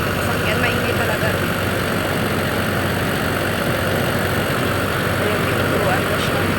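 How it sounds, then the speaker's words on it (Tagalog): A vehicle engine runs loud and steady beside a rice mill, a constant rumbling drone that fills the whole stretch, with a voice faintly audible beneath it. "Maingay kasi yung makina ng sasakyan."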